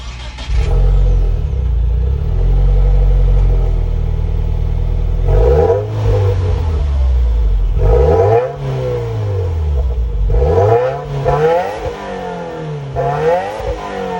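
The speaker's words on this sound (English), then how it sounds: "that was, of course, the sound of Subaru's 2-liter 4-cylinder boxer engine" A 2021 Subaru WRX Premium's 2-liter four-cylinder boxer engine cranks and fires up, settles into a loud, close idle, then is revved several times in sharp rising-and-falling bursts, with no talking.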